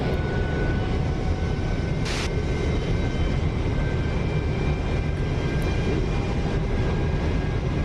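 An SR-71 in the DCS flight simulator cruises with a steady, loud jet roar that holds unchanged throughout, with one brief burst of noise near the start and no talking.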